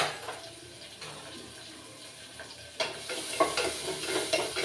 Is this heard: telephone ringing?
no